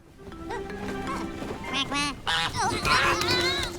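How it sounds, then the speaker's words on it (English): A duck quacks repeatedly in an animated film scene where it crashes into a man parasailing beside a car, the honking calls close and loud over busy music and effects. "A duck crashes into him."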